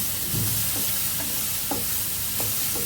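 Quinoa pulao with spinach cooking in a pan, a steady soft sizzle with occasional light stirring scrapes, close and continuous with no voices.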